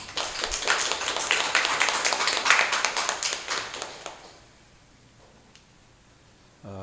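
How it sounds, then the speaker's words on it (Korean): Members of a church congregation clap together during a Sunday service, a dense run of sharp hand claps that holds for about four seconds and then quickly fades to near silence. "우리 하나님께 박수로 영광을 돌려드리겠습니다."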